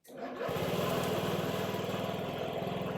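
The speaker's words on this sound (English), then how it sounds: "Bike's running now." A trials motorcycle engine with a kill switch jumper harness fires up after a brief start attempt and settles into a steady, loud, fast-pulsing idle close by, running on without a pause.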